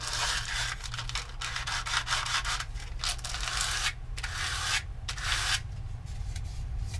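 Rhythmic rasping of wood being sanded by hand with a sanding block, back-and-forth strokes with brief pauses, close and fairly loud with a low background hum.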